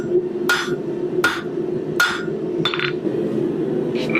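A 2-pound hammer forging corkscrew metal on an anvil, four sharp ringing blows at a steady pace followed by a lighter tap, close and loud over a constant low hum.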